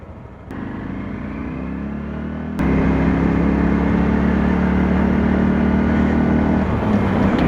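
A Honda Super Cub motorcycle engine runs steadily up close, with a sharp click as it shifts gear partway through, after which the engine note steps up louder and holds a rough, even drone while accelerating.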